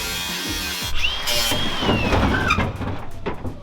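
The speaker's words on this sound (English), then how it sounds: "So now I'm gonna cut the trunk lid." A power tool cuts into the metal trunk lid of a derby car, starting with a quieter whir, then a loud continuous grinding screech with rising and falling pitch that tapers off near the end.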